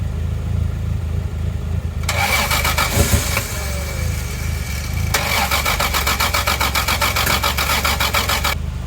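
Toyota Supra engine cranking over in two long, loud, rhythmic bursts of starter chatter, close up, with a low rumble continuing between them.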